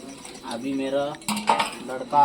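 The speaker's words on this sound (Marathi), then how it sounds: "मोठे भांडी घासते आता." Big metal pots and dishes are scrubbed and knocked together while being washed at a Marathi family home, with close, irregular clinks and clanks and soft scraping between them.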